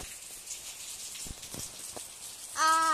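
Heavy rain pours steadily onto a courtyard, a continuous hiss with a few louder drip spatters; a brief tonal sound cuts in near the end.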